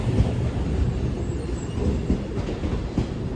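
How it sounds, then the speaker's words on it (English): A Northern class 158 diesel multiple unit rolls into Newcastle station, a continuous low rumble of wheels and engine with faint rail clatter, steady and fairly close. "Also arriving in is a northern service 158842. Arriving in, terminate here at Newcastle."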